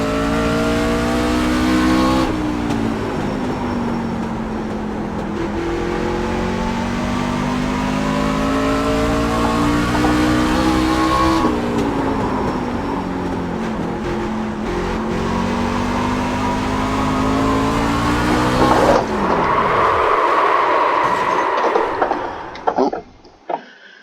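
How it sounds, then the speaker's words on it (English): A race car engine in the iRacing sim screams at high revs, rising and falling through gear shifts with long sustained pulls, then drops away as the car slows and tires squeal near the end. "It might be a little quiet here, but because the engine will overpower my voice."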